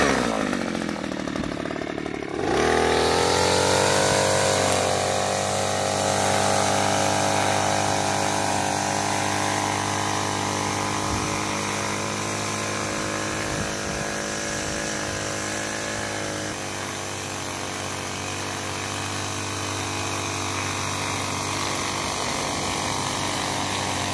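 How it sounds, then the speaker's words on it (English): A string trimmer with its guard on edges a lawn: a loud, close, continuous engine whine that rises as it revs up after the first few seconds, then holds steady with a slight drop in pitch later. "I trimmed the curbs already, trimmed the outside and around the trees."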